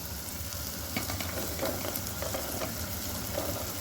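Finely chopped, peeled bottle gourd (lauki) sizzles and fries steadily in a hot pan with turmeric. The crackle is close and continuous, with a few stirring scrapes and no talk.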